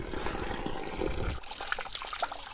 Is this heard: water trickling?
yes